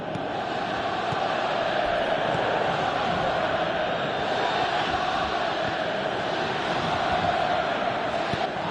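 Large football stadium crowd at a Paris vs Dortmund match roaring steadily and continuously throughout, a dense broad wall of voices with no breaks.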